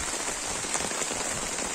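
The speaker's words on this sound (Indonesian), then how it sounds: "Cuman kondisi saat ini hujan guys." Steady rain falls on a garden plot, a dense, even hiss of drops striking leaves and ground that continues without a break.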